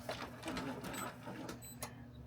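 An Epson 8550 printer runs its automatic printhead maintenance cycle with a faint, steady mechanical whirring and soft clicking from the carriage, heard alone at low volume.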